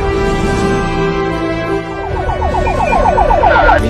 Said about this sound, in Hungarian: A mentő.